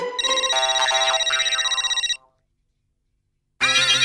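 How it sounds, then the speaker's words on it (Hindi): An electronic phone ringtone plays a warbling melodic ring, stops for over a second, then starts ringing again, loud and close. "पांडे जी का फोन।"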